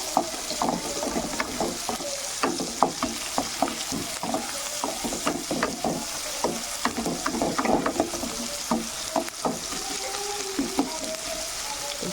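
Chopped spices fry in a pan for a bhola fish curry with potato and cauliflower, a steady sizzle broken by frequent clattering stirs of a utensil against the pan throughout.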